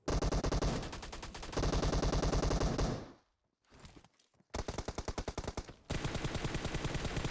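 Rapid bursts of automatic gunfire in PUBG on the Karakin map, loud and continuous, broken by a brief lull with scattered shots before the firing resumes.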